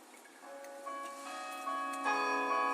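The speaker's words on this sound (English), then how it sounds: "we hear the famous City Hall bells begin to chime" Oslo City Hall's bells chime in a rising, layered peal of sustained ringing tones, building in loudness over a few seconds with no voices.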